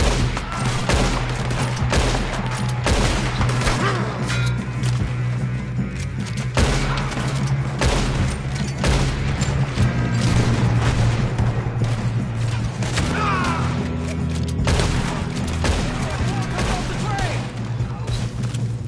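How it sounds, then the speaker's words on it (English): Sustained heavy gunfire in a Red Dead Redemption 2 shootout: dense, loud overlapping shots and booming reports rolling almost continuously, with game music and voices underneath. "Good shooting, kid."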